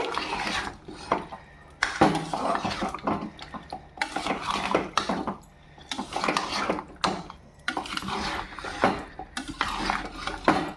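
Chicken pieces being stirred in a pan for Andhra chicken curry, with repeated scraping, clinking strokes of a utensil against metal in uneven bursts, fairly close, with no talking.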